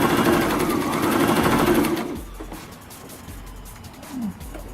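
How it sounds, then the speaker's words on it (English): A sewing machine stitching the sides of a doll sofa pillow, a loud, rapid, steady whirring hum up close that runs for about two seconds and then stops, leaving faint handling noise. "So what you want to do is sew 3 sides."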